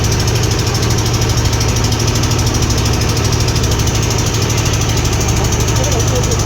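A tourist boat's engine runs steadily throughout a slow ride, a dense continuous low rumble with constant vibration and no breaks.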